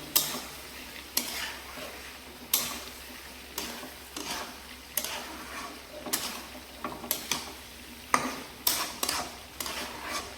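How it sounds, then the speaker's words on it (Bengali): A spatula scrapes and stirs salted food in a pan in regular strokes, sharp knocks about every second over a soft background sizzle. "ভালো করে এটা মিশিয়ে নেব"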